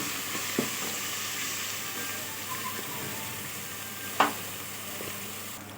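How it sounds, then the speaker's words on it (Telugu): Turmeric is stirred into softened tomatoes in a pan for chicken curry, giving a steady close sizzle with occasional scraping clicks of the spoon, one sharper knock near the end. "ఒక స్పూన్ పసుపుని వేసుకోవాలి వేసుకొని ఒకసారి కలిపేసుకుందాము"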